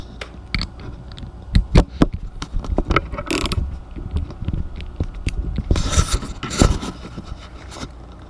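Socket wrench ratcheting on a bolt of a 2019 KTM 690 Enduro motorcycle during a secondary air system removal, close clicking pawl bursts with metallic clanks and shuffling between turns.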